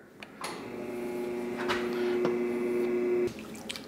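A sausage stuffer's piston lowers under foot-pedal control while making bratwurst with a 3/4 inch horn, giving a steady mechanical hum with a sustained tone for about three seconds, then stopping abruptly.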